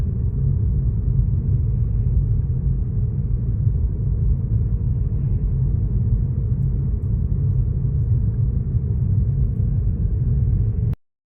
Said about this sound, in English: It is snowing while we are driving.